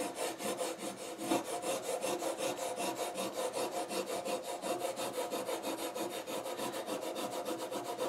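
A tool burnishing a rub-on image transfer onto journal paper, fast, steady back-and-forth rubbing strokes, a close, soft, continuous scratchy rasp with no voices.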